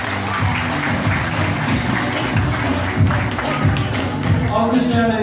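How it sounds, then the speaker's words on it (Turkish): Wedding guests applaud the bride and groom, a dense, continuous round of clapping from a crowd at a lively event, with voices mixed in. "Alkışlarımızı gelin ve damadımıza duyurabilir miyiz?"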